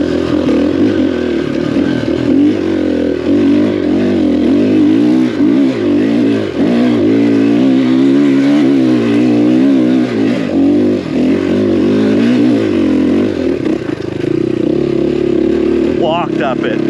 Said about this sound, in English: First gear, here's second gear.